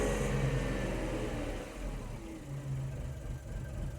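A Renault Twingo with a camshaft position fault idles roughly and struggles to stay running, the engine note dipping and being lifted by blips of throttle, heard close and fairly quiet.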